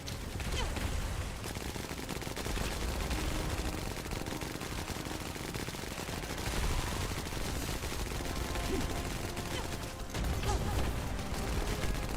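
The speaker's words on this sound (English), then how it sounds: "And the Ajax is just standing back there shooting rockets" Ajax fires rockets in The First Descendant, a dense, continuous stream of rapid firing and blasts that stays at a steady loud level, a brief lull near the end, with no talking.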